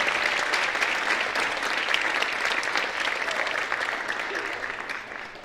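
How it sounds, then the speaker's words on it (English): Audience applause at a university world percussion ensemble concert, a sustained, even roar of many hands clapping that fades slightly toward the end. "So we give them a round of applause."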